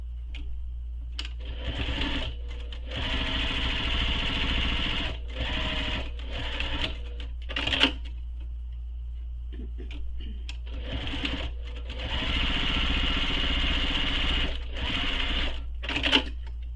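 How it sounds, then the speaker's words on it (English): Sewing machine topstitching a backpack strap runs in several fast, buzzing bursts separated by short pauses, close and loud, over a steady low hum. "we're going to top stitch both sides using the seam allowance given in the pattern"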